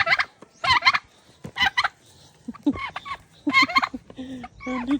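A farm turkey gobbles in several loud, close, rapid bursts, with pauses between calls and lower clucking from other fowl near the end.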